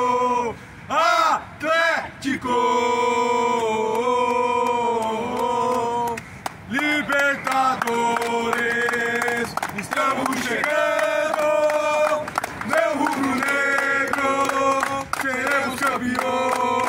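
Flamengo football fans chant and shout loudly in unison around the Defensores del Chaco stadium in Asunción, Paraguay, a dense crowd singing with sustained melodic voices, whoops and rhythmic calls throughout.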